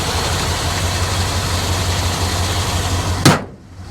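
A 318 5.2-liter V8 van engine idles in a steady, low rumbling drone at close range, then the sound cuts off abruptly with a short thump near the end.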